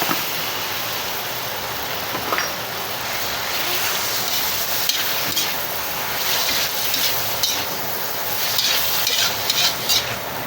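Pork frying and sizzling in a pan for dinuguan, a steady dense crackle with occasional stirring scrapes and clinks, close and continuous throughout with no talking.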